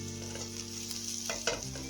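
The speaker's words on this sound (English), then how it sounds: "Nicely fried, very lightly fried too." Mushrooms lightly frying in a pan, a steady close sizzle with brief stirring scrapes near the end, no voices.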